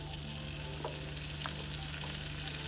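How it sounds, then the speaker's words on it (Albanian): Cottage cheese sizzles and fries in melted butter in a pan, a continuous fine crackling hiss with small pops, steady and fairly faint with a low hum beneath, no voices. "në momentin që është shkryer gjalpi, hedhim edhe gjizën që tham"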